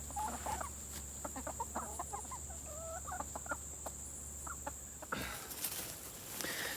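Several chickens cluck in short, irregular bursts over a steady background hum, ending with a louder rustling shuffle near the close.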